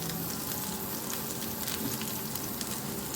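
Chopped potato and green chilli fry in a pan with a steady, dense sizzle and crackle that holds evenly throughout, close but moderately quiet with no talk.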